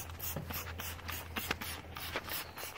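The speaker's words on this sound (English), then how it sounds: "Spray in here, and over here, gotta spray the coil." Cleaner sprayed onto the coil of a Fujitsu mini split heat pump during a deep clean: a string of short, hissing spray bursts with scraping, rubbing texture, close and moderately quiet, with no talking.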